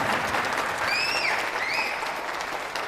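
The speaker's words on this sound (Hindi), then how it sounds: "क्या हम यीशु को जोरदार ताली देंगे उसके प्रेम के लिए?" Audience at a Christian residential retreat in Ranchi gives steady, sustained clapping that fills the room, with a couple of rising whistles cutting through near the middle.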